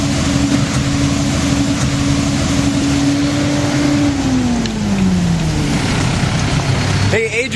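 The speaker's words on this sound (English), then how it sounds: "We are gonna go and steal the sweeper machine from Adrian." A walnut sweeper machine drives through an orchard, its engine a loud steady drone with a sustained tone that dips in pitch near the end, continuous and close throughout.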